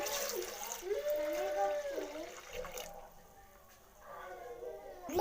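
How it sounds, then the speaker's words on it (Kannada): Water poured from a glass into a cooking pot for dal sambar, a steady splashing pour that comes in bursts with a pause in the middle, fairly close, with a voice speaking over parts of it. "ಆರು ಗ್ಲಾಸ್ ನೀರು ಇಕ್ಕೋತಾ ಇದ್ದೀನಿ"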